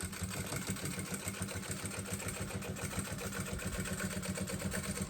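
A sewing machine stitching a makeup pouch runs in a fast, even mechanical chatter with a regular pulsing rhythm, held steady for several seconds at moderate volume with no talking.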